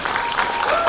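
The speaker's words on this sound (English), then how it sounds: "Let's give a round of applause for all 6 candidates who attended." Audience applauding six candidates at a Libertarian Party debate in Florence, South Carolina: a brief, steady burst of clapping from a room crowd, moderately loud and continuous with no gaps.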